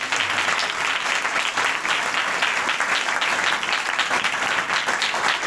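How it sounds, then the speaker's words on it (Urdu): A church congregation at an Advent Sunday service claps together, a full, steady burst of many hands applauding loudly and continuously for over five seconds, with no speech over it. "آئیے خدا کے لیے تالیاں بجائیں جو ہمیں امید ہے۔"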